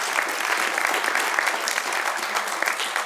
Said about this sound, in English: give the Lord a praise clap in this house.